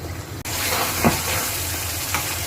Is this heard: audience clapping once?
no